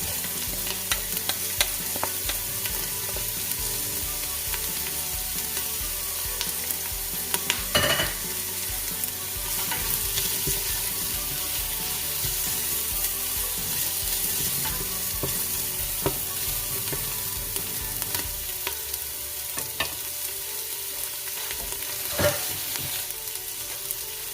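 Garlic sizzles steadily in a hot pan for Japanese curry, a continuous frying hiss with occasional stirring scrapes and clicks, close and fairly loud with no talk.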